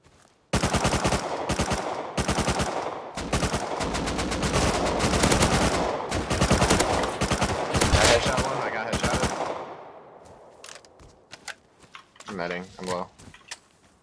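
AK gunfire in the video game Rust: loud, rapid automatic bursts in quick strings for about nine seconds, then a few sparse single shots, with a voice briefly speaking near the end.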